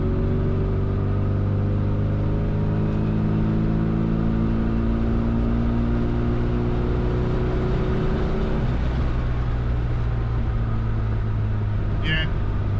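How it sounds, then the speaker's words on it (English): A tuned classic Mini accelerates hard in fourth gear from around 40 mph, its engine droning loud and close as the pitch rises steadily under sustained throttle. "I'm just going to plant the throttle and it just pulls and it pulls"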